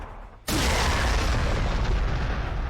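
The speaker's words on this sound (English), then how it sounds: "Just throw some more frag in there." Frag grenades blast in the Warhammer 40,000: Sanctus Reach video game, a sudden loud boom that swells into a sustained, rumbling roar of overlapping explosions.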